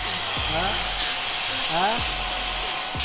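A homemade vacuum contraption pumps air around pizza dough with a steady loud whooshing roar and rising whines, while a voice talks over it.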